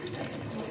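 Water runs steadily from a tap into a pot of kale for egusi soup, making a brief, close, continuous gush with no voices.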